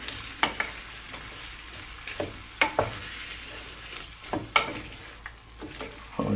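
Chickpeas sizzle in a pan, Spanish style, while a bamboo spoon stirs them, with steady close frying hiss broken by repeated sharp scrapes and taps of the spoon against the pan, no talking.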